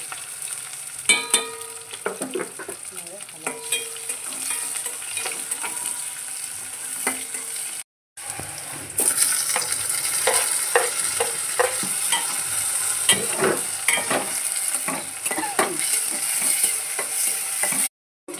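Green chillies, chopped garlic and curry leaves fry in hot oil with cumin, a steady close sizzle broken by bursts of crackling and spoon scrapes against the pan, with a short drop to silence midway and again at the end.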